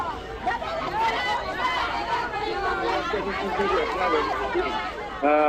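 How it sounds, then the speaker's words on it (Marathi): Large, noisy crowd gathered on court premises in Malegaon amid tension, with many voices chattering and shouting together in a dense, steady hubbub close by. "न्यायालयाच्या आवारामध्ये मोठ्या प्रमाणात गर्दी दिसतीये"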